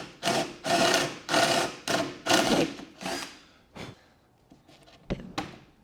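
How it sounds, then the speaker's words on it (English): A drill bores a vent hole into a wooden peg carved from a broom handle, running in about six short, loud bursts of whirring and grinding, followed by a few quieter knocks and clicks. "we're just going to drill a vent hole in the middle"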